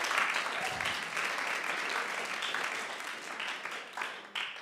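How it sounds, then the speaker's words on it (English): Sustained applause from a large church audience, dense clapping filling the room at a steady level for several seconds before tapering slightly. "massive round of applause"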